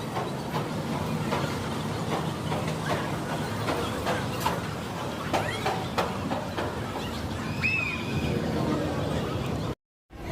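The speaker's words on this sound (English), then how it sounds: "Let's watch this train go up this hill." A wooden roller coaster train at Knoebels amusement park climbs a lift hill with a steady clatter and rumble and scattered clicks, heard at moderate distance amid general park ambience.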